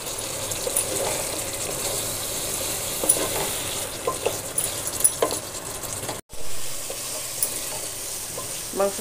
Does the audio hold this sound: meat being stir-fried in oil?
yes